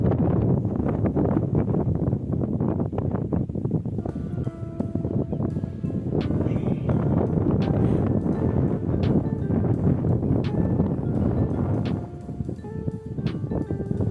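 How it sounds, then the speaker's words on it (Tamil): Strong wind on a mountain peak in the Nilgiri forest buffets the microphone in a steady, loud roar with rumbling low gusts, carrying on for the whole stretch with faint background sounds. "காற்று செம்மையாக அடிக்குது."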